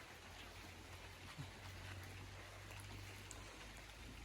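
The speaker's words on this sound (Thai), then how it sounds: "นี่ครับพี่ๆตกแต่ตกน้อยๆ นะ" Light rain falls steadily around a rural Thai village home, a soft continuous hiss of fine drops with a low hum underneath and no voices.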